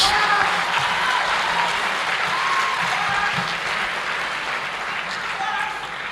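A lecture audience applauds steadily for several seconds, a dense even wash of clapping that fades slightly toward the end, with faint voices mixed in.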